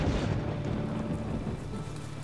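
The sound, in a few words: rain falling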